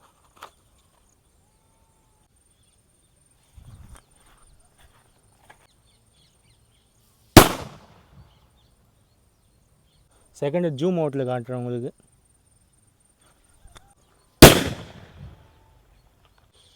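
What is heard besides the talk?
bullet bomb firecrackers exploding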